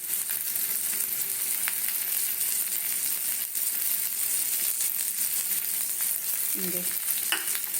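Bay leaf, cardamom, cloves and cinnamon sizzle in hot oil with a steady, soft hiss, broken by a brief stirring scrape near the end.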